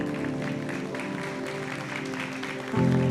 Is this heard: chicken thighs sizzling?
no